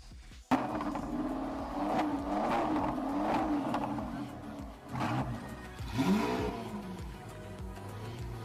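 Lamborghini Aventador supercar at an Indonesian supercar gathering, its engine revving in loud rising and falling roars, with people talking nearby.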